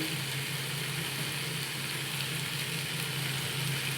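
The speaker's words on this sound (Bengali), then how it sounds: "আলু ছোলা আমার অনেকটাই কষানো হয়ে গেছে" Pumpkin, potatoes and chickpeas frying together in a pan: a steady, dense sizzle with a low humming undertone, even and unbroken throughout, with no voices.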